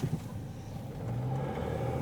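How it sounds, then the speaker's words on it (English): Car approaching from the left on a Dutch road near Bergen aan Zee, its engine hum growing steadily louder over about two seconds, heard from nearby. "Car's coming from the left."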